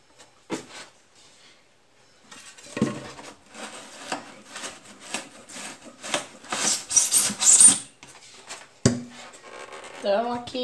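A thick screwdriver is pushed and twisted through the walls of a styrofoam box to make drainage holes, giving a series of squeaky, rasping scrapes and crunches that grow denser and louder toward the middle.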